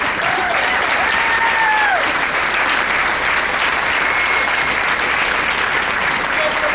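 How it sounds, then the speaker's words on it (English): An audience at an epilepsy-awareness performance evening applauds the director with steady, loud, dense clapping that holds for the whole stretch, with faint whoops and crowd voices mixed in. "Just give him a round of applause."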